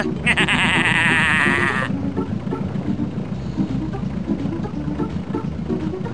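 Goat bleating in the 1997 Windows game Spy Fox in Dry Cereal, one loud wavering bleat up front, followed by rhythmic game music and chugging machinery.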